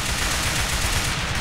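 Automatic gunfire bursts in the online survival game MTA San Andreas DayZ, a loud, dense rattle of rapid shots filling the moment with no speech over it.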